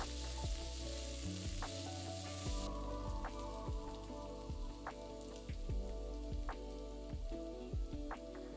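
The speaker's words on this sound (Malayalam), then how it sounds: "പിന്നെ 4 വറ്റൽമുളക്, കുറച്ച് കറിവേപ്പില ഇതെല്ലാം കൂടെ ഇട്ട് 2 മിനിറ്റ് നന്നായിട്ട് മൂപ്പിക്കുക." Green chilies, dried red chilies and curry leaves frying for a Kerala cabbage thoran, a steady close crackling sizzle in hot oil with scattered pops and stirring knocks throughout.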